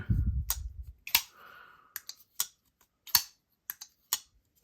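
A Kizer liner lock knife flicks open and snaps shut several times, each action a sharp close click or thwack separated by short pauses, with a faint rattle on closing and no talk.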